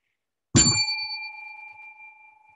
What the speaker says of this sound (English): I keep hearing this bell and then the whole freaking world changes.